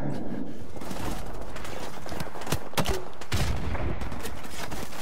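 Gunfire in the video game Call of Duty Modern Warfare Remastered: loud rapid bursts of shots with sharp cracks and echoing blasts, fairly dense over a few seconds.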